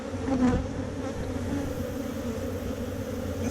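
Honeybees in a hopelessly queenless hive, disoriented and buzzing around the hive entrance; a dense, continuous droning hum of many wings, close and steady, with one louder pass early on.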